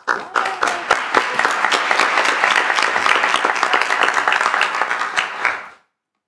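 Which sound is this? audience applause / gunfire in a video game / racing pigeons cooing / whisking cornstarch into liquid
audience applause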